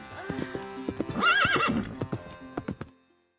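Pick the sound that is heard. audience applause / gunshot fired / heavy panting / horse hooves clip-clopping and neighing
horse hooves clip-clopping and neighing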